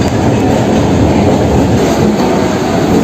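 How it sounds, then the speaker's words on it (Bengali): Hasnabad local train on the Kolkata circular rail running steadily, a loud continuous rumble with rhythmic wheel clatter heard from inside the carriage, no voices. "হাসনাবাদ লোকালে আজকে আমরা যাত্রা করছি।"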